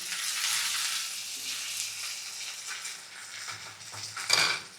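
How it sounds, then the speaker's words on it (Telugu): Curry leaves sputter and sizzle in hot oil in a kadai, making a soft, steady frying hiss that flares into a brief crackling burst near the end. "కరివేపాకు ఎప్పుడు వేసినా సౌండ్ ఎఫెక్ట్స్ మాత్రం ఇస్తూనే ఉంటుంది"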